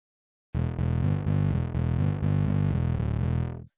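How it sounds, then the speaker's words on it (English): A heavily distorted music track mixed in FL Studio on a Mac Mini plays loud and dense, with thick sustained tones pulsing in a regular chord rhythm for about three seconds before cutting off. "So we'll see about this distortion."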